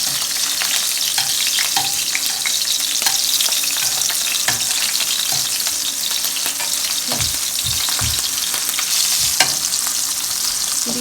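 Shrimp sizzle and fry steadily in a hot pan, a loud continuous crackle broken by scattered spatter pops and a few dull knocks as the pieces are flipped for tacos.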